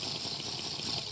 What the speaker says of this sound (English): You fill it with water and then you can drink it.